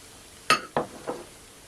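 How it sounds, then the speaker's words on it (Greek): A spoon stirs orange juice mixed with half a teaspoon of baking soda, giving three quick, close clinks against the container, each fading fast, then quiet. "Ανακατεύω λίγο."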